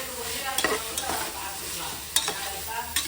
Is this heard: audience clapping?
no